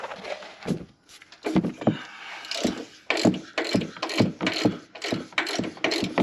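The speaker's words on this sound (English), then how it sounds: "The last nuts you're going to have to take off are the upper strut nuts." A ratchet loosens the upper strut nuts on a 2019 Ford F-150 in short, fast clicking bursts, repeated many times at close range with brief pauses between them.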